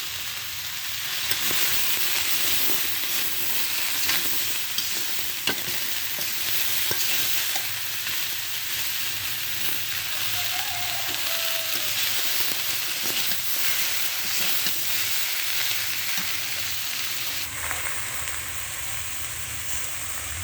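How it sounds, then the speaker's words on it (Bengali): Salt, turmeric and dried chili powder frying in a pan for taro-stem and tengra fish curry, a steady broad sizzle with faint stirring scrapes running continuously, no talking. "এই ভালোভাবে আমি ভেজে নেব।"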